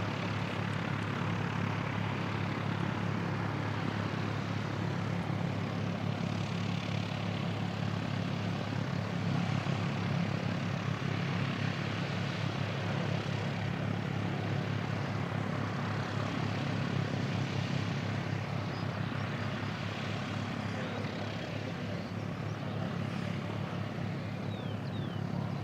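A Singapore Airlines airliner taxis at Christchurch Airport in New Zealand, its engines giving a steady, continuous broadband roar with a low hum beneath, moderately distant and unbroken, with no talk.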